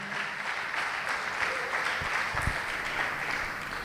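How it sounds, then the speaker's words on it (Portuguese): Church congregation applauding during a worship service, a continuous, even roar of many clapping hands at moderate distance, with a few low thumps mixed in. "Vamos aplaudir o nome de Jesus"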